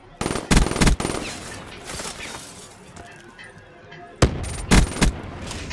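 Automatic gunfire from a weapon in the shooter Call of Duty Black Ops 3: loud, sharp bursts of rapid shots come in clusters, then a quieter stretch, then another burst of fire.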